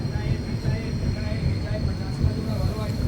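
A train passing a forest office produces a steady, heavy low rumble and rattling of railcars, close and continuous for the whole stretch without a clear change in pace.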